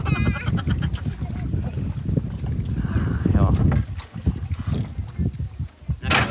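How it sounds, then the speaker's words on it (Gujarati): A boat heads out to sea, its steady engine and water rush loud and close beneath continuous talk from people aboard, with gusts of wind noise buffeting the microphone. "આપણે નીકળી ગયા છીએ બોટમાં."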